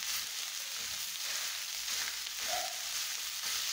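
Chorizo with nopales and onion fries in a pan, a steady close hiss of sizzling fat with a brief stirring scrape partway through.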